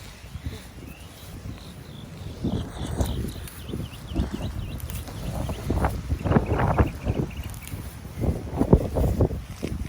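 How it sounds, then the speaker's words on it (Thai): Strong wind gusting outdoors on a cold day while leaves are picked in a garden, rising in loud, buffeting bursts against the microphone with rustling throughout and no talk. "ลมแรง วันนี้อากาศเย็นนะ"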